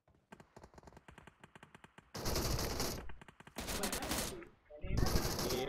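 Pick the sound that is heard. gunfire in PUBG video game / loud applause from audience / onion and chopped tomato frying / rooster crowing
gunfire in PUBG video game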